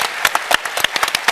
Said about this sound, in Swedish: Kan vi inte få en applåd för Avesta och Borlänge kommun?